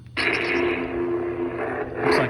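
A lightsaber sound font called The Fallen on an Artsabers Silver Unicorn FX saber: a steady electronic hum with harmonic bands that starts abruptly, holds for about two seconds, and swells with a brighter burst near the end.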